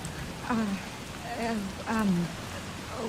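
Steady hiss of rain falling in the Resident Evil Requiem video game, a constant wash under a voice talking over it in short phrases.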